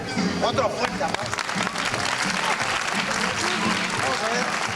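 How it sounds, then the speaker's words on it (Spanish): A crowd gives a loud, sustained round of applause with shouting and chatter mixed in, while a voice carries over the clapping. "Otro fuerte aplauso."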